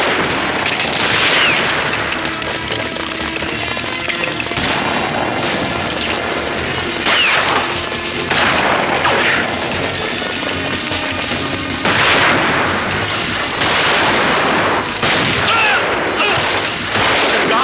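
Dense, continuous gunfire with overlapping bursts and booms, loud and chaotic throughout, like a sustained firefight.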